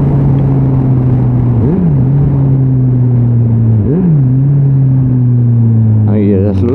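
Motorcycle fitted with a Delkevic exhaust, heard from the rider's position on a Tuesday night bike meet ride, holding a steady engine drone with two brief rev dips and a rising rev near the end, under wind noise.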